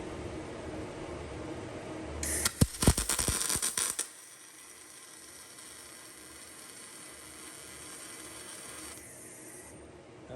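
MIG welding on a differential being welded solid, run with higher wire speed: a crackling, sputtering burst, then a steady, even hiss that holds for several seconds at low volume, with no talking.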